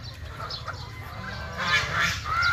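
Pet ducks quack and honk in a few scattered calls, louder near the end, over a low background rumble.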